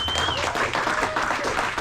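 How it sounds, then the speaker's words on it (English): A crowd applauds a guest being introduced at a Moto Federation Garage event, steady dense clapping filling the whole moment, with a voice briefly audible underneath. "Please give him a round of applause before I do his intro."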